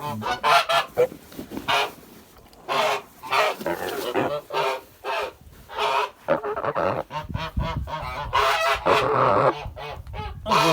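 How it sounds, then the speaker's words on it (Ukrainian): A goose being weighed honks repeatedly and noisily at close range, a long run of loud, harsh, uneven calls with brief gaps between them. "А це гуска."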